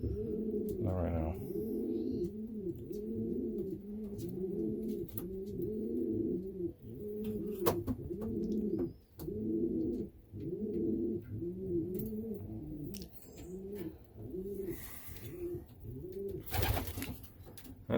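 A loft of young pigeons keeps up a steady chorus of repeated, rhythmic cooing close by, with occasional clicks and knocks breaking through the continuous murmuring calls.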